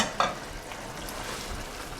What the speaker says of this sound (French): Je vais laisser mijoter un petit peu.